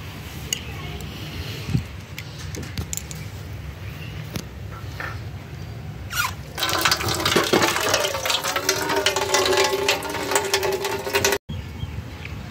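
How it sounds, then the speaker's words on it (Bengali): Raw chicken pieces washed by hand in water, a steady running and splashing wash that grows louder and busier partway through, with some background noise before it. "তো চলো আমি চিকেনগুলো ধুয়ে ফেলি।"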